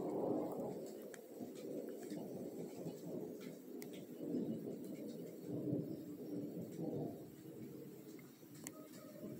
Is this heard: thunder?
yes